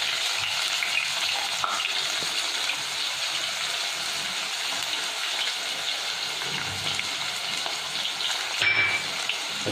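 Onions frying in oil for aloo keema, a steady close sizzle with soft stirring scrapes running throughout, no talking.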